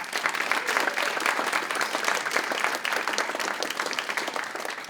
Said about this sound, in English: So let's give our students another round of applause.